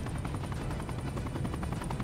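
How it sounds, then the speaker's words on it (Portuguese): Helicopters in the Super People battle royale game, a loud continuous rotor thump with rapid pulsing chop, steady and close with no talk. "Então, vários helicópteros, hein?"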